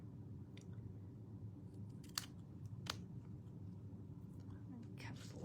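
Scissors snipping paper for a handmade stamped card with a pears design, a few close, crisp cuts heard over soft room noise while someone speaks quietly.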